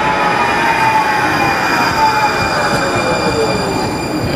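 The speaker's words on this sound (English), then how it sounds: "here comes my train." A Houston Metro Rail train rumbling into the station, loud and close, with a steady roar and high metallic wheel squeal drawing out over several seconds.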